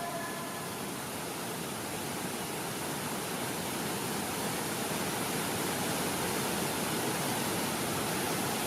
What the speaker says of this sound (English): The Quang Si waterfalls are a miracle of nature and a magnet for visitors.